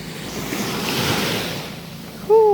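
Sea waves wash steadily onto a beach on Caramoan island, a loud continuous surf roar with wind noise, ending in a sudden louder gust or splash.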